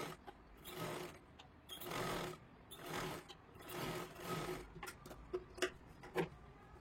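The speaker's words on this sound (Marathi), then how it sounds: "गोल आकारामध्ये सर्वात आधी आपल्याला शिलाई मारून घ्यायची आहे." A sewing machine stitches a round seam on a katori blouse in several short bursts of fast, steady rattling whirr, close by, ending in a few quick separate clacks.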